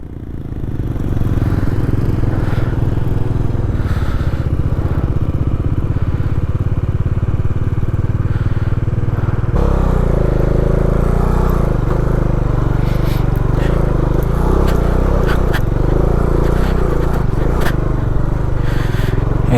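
A motorcycle rides a rough dirt mountain road on a high-altitude pass, its engine droning loud and steady for the whole stretch with clattering, scraping rattles over it and a change in tone midway.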